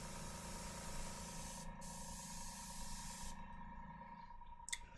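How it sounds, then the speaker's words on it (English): An airbrush sprays gray paint onto a miniature model, giving a steady, close hiss that runs continuously with brief cutoffs and a short burst near the end. "I am going to just airbrush this whole thing gray"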